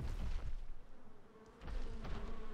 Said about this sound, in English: Bees, man. Bees!